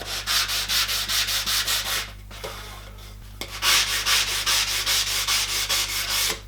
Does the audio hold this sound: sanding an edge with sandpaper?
yes